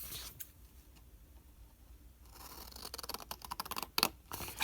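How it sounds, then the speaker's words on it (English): Faint rustling is followed by a series of quick, crisp scissor snips cutting through stiff cardstock, irregular and close. "and I'm going to cut this out if I can find my scissors."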